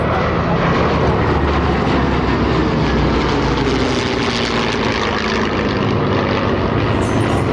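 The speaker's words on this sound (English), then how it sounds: "listen to the sound of round, the Allison and the Merlin engines and the music they make" P-51 Mustang fighters with Allison and Merlin piston engines fly past at an airshow, a loud, steady propeller drone that fills the scene without break.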